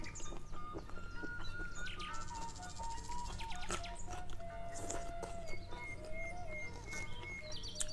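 Birdsong from an ancuing bird in the Indonesian countryside: thin whistled chirps and short tweets scattered across the clip, with faint background rustling and no voices.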